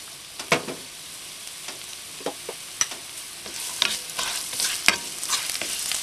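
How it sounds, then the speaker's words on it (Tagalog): Garlic sautéing in a tablespoon of cooking oil in a pan, with soft crackling sizzle and several sharp stirring scrapes and clicks, moderately close and without speech. "Igigisa po natin yung ating bawang. Lalagay natin itong ating garlic."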